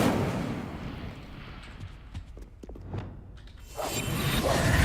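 Incendio fire spell cast in the Hogwarts Legacy video game, a loud rushing burst with crackling snaps and swishes over steady game ambience, swelling louder toward the end.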